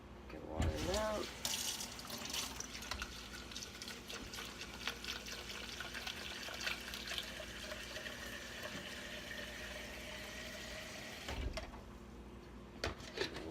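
Water runs steadily from a tap into a container for mixing yellow tie-dye, a continuous splashing hiss with a few clunks and handling knocks near the start and end, and no speech.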